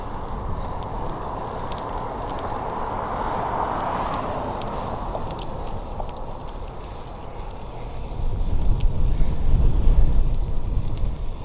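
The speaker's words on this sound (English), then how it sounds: "Riding in the wind is not fun." Wind buffets the microphone while riding a fixed-gear bike on urban streets at sunset, a steady broadband rush that swells louder toward the end with no one talking.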